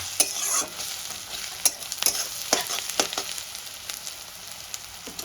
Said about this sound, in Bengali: আদা রসুন কাঁচা লঙ্কা বাটাটা দিয়ে বেশ ভালো করে কষাবো